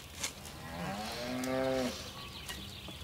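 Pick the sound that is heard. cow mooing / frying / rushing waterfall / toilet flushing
cow mooing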